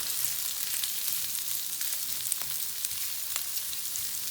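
Vegetables for a chicken and vegetable noodle dish sizzle steadily in a hot pan, a continuous close hiss and crackle with a few sharper pops and stirring clicks, no voices.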